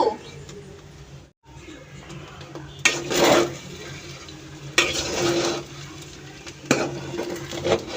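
A spoon stirs and scrapes vegetables and spices sautéing in a pot for vegetable khichuri, in three sharp bursts of scraping against metal over a faint background sizzle, close and moderately loud.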